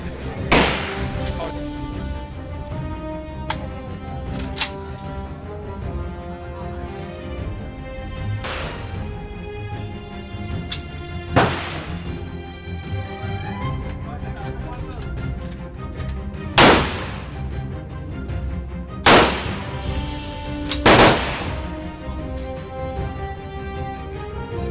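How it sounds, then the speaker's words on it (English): AK-47 rifle fired at a shooting range in Vietnam: sharp, loud single cracks spaced irregularly across the stretch, about eight distinct shots with a background murmur between them. "Shooting an AK-47 into a range in Vietnam is something"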